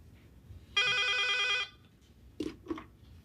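A single trilling telephone ring lasting just under a second, bright and warbling, followed by a couple of faint clicks and soft handling sounds in a quiet room.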